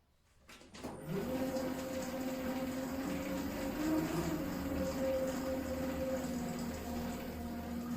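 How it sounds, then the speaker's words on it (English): A stand mixer set to its first speed kneads ciabatta dough made with biga, flour and water, starting up after a second of quiet into a steady, fairly faint mechanical whir and hum that runs on alone. "I set my mixer to the first speed."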